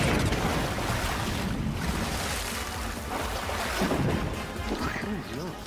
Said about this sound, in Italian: L'acqua sta salendo.